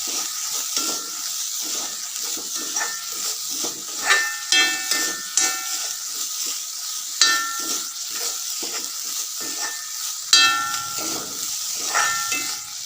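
Pomegranate upperi stir-fry being stirred in a pan, with steady sizzling and repeated scraping clinks of a spoon against the metal, close and continuous throughout.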